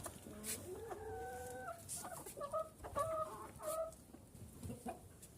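A young bantam rooster clucks and makes short, wavering calls close by, a few bursts with brief pauses between them.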